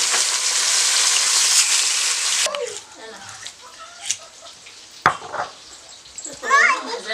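Whole spices dry-roasting in a pan for a fish curry: a loud, steady sizzle for the first few seconds gives way to quieter scraping and stirring, with a few sharp knocks of a utensil against the pan.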